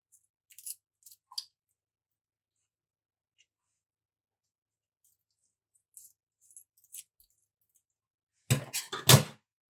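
Scissors snip the eyes off a squid during home kitchen prep for spicy stir-fried squid: faint scattered clicks and small cuts, then two loud, close, crisp snips near the end, with no talking.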